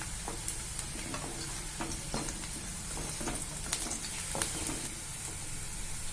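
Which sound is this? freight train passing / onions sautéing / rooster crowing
onions sautéing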